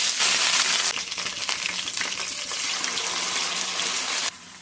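Onion and garlic frying in hot oil for chicken pickle, a loud bright sizzle that bursts in and crackles steadily before dropping off sharply near the end.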